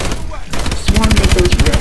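Swarm missiles launch in the shooter game Call of Duty: Advanced Warfare. After a short lull, a loud, rapid, evenly spaced string of launch thumps fires in quick succession and keeps going to the end.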